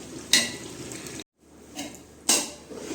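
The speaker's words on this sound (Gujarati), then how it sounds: "તો હવે આપણે ભાત નાખી દઈશું" Cooked rice tipped into a pot of spiced dish and stirred, giving two sharp scraping clatters of a spoon against the pot separated by a short gap of silence, with soft stirring and sizzle between.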